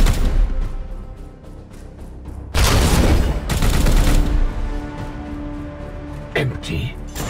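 Heavy support gunfire and explosive booms in Warhammer 40,000: Chaos Gate – Daemonhunters, loud, close bursts layered over ambient battle noise, with voices speaking throughout.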